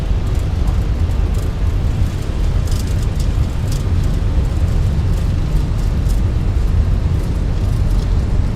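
Airbus A320 jet engines spooling at takeoff power in Microsoft Flight Simulator 2024, a steady, loud broadband roar with heavy low rumble that holds constant throughout with no pauses.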